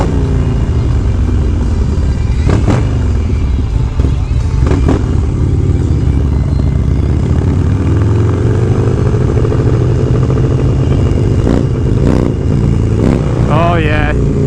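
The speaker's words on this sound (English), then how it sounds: "And how does the bike sound, you ask?" A motorcycle engine drones loudly and steadily throughout a ride, with a continuous low rumble and rising and falling pitch as it pulls, plus brief wind buffeting.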